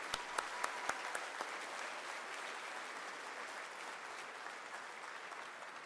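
An audience applauds at the opening ceremony of the 2024 Spaceport America Cup rocketry event, with a steady wash of clapping from a large crowd and a few distinct close claps at the start.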